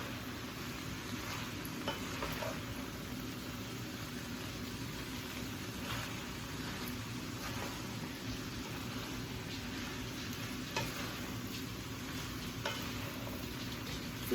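Green beans for a Hmong stir fry being stirred in a hot pot, a steady soft sizzle with faint scraping and crackle throughout, close but quiet, no talking.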